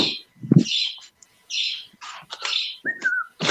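Pet birds chirping close by indoors: a lively run of bright tweets, whistles and squawky calls coming in quick bursts with brief pauses, loud and alone.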